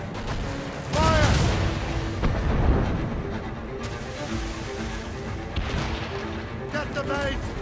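Ship cannons firing in a naval battle in Assassin's Creed Rogue, with repeated heavy booms and rumbling blasts over a busy battle din of wind and waves, as crew voices shout in the background.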